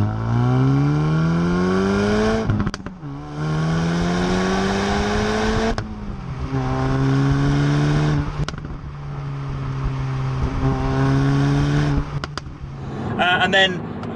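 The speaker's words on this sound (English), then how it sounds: "On acceleration, it's got a really throaty grumble to it" A Hyundai i30N Performance engine and exhaust rev up through several gears with a throaty, rising drone, dipping at each gear change, and a few sharp cracks near the end; someone talks over it throughout.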